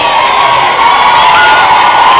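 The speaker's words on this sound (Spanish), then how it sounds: "los aplausos que surgen espontáneamente hacia una Euráfrica 2011" Loud crowd at a parade of the Uráfrica candombe group in Durazno, cheering, shouting and applauding steadily without a break, with children's high shouts mixed into the dense roar.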